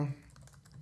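Keystrokes on a computer keyboard while working in Xcode, quiet scattered clicks under a faint low hum after a brief murmur at the start.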